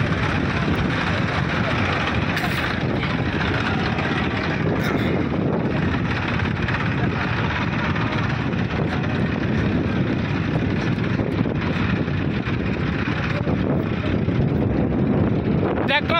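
Tractors driving in a farmer's wedding procession in Barmer produce a constant, loud engine drone with heavy wind rumble that never lets up.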